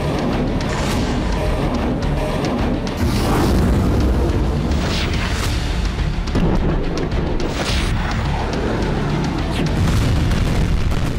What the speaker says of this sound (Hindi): चंद सेकंड में कई जगह धमाके